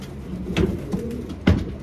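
Racing pigeons coo in a loft, two or three soft, low throaty calls over a light background hiss, close by.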